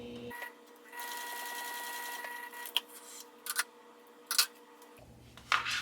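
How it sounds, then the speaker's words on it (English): A sewing machine top stitching a wallet hums at an even pace for about four seconds, with a few sharp clicks and clacks around it, heard close and fairly quiet. "I'm going to top stitch right below it the same way as I did the third one"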